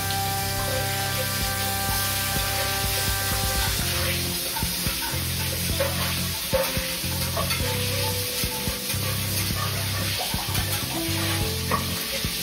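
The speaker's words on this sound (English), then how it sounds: "we're gonna put our gravy into this and then we're gonna whisk it." Mushroom gravy is whisked in a hot pan alongside schnitzel cooking, a steady scraping and sizzling hiss that runs throughout, with a tonal background hum in the first few seconds.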